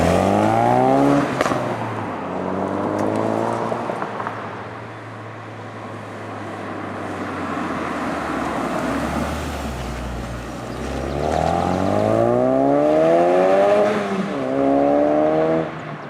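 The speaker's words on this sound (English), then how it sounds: "I just love the sound of that car when I'm accelerating or having fun with it." A 2016-2018 Ford Focus RS engine revs and accelerates in repeated rising sweeps, loud and close, with gear changes between pulls and a lull of steady cruising in the middle.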